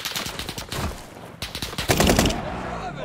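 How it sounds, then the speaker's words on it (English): Rapid bursts of automatic gunfire crackle in Call of Duty: Modern Warfare, sharp repeated shots stacking into dense volleys that grow louder and closer toward the end, with no voices over them. "They shoot me."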